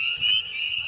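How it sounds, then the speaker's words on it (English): A wood frog calls in early spring, a steady near chorus of quacking, duck-like croaks that holds through the whole short moment with slight swells in loudness. "That's a wood frog calling right there."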